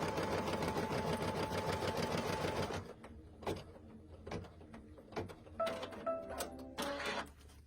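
An embroidery sewing machine runs a quick single placement outline stitch on vinyl, a rapid even rattle for about three seconds, then stops, leaving scattered clicks, thumps and brief tonal beeps close by.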